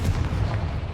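A Confringo fire spell explodes in Hogwarts Legacy with a deep, booming blast that rumbles low and sustained through the whole moment, loud and close.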